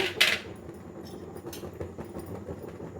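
Dry chana dal lentils tip into a pan for ginger chutney, a short bright rattling pour near the start, then a steady low background hum with faint clinks.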